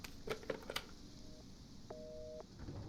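A telephone in the horror video game Resident Evil 7 rings in two short electronic bursts after a few clicks and knocks, set against a low ambient drone.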